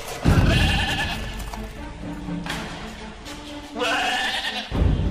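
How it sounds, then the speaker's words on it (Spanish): Sheep bleating as a radio drama sound effect from a pen built of wooden planks, several wavering bleats at close range separated by short pauses, with no speech. "El balido provenía de una armazón de tablas, que más parecía una casucha que un corral."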